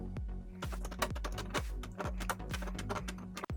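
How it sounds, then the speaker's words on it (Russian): Hand shears snip through sheet iron along a paper template for a homemade stove-fireplace, giving a quick, steady series of sharp metallic clicks close by. "И ножницами аккуратненько вырезаем."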